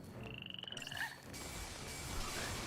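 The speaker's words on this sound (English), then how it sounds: "They are frogs. They make a froggy noise." Frog creatures in Final Fantasy XIII give a few quick croaks, a short burst of rapid throaty pulses followed by softer chirping calls over steady game ambience, fairly faint and with no talking.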